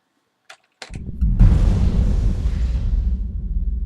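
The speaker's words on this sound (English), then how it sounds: "I'm going to launch my torpedo. I'm going to back up. Launch another torpedo." In the space game Void Destroyer, torpedoes split into mines and explode: two short clicks, then a loud deep rumbling blast that swells and holds for several seconds, heard alone.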